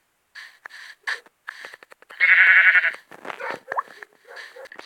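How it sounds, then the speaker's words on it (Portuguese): A sheep in a video game bleats once, loud and close, among short bursts of talk from players. "Está ali uma ovelha."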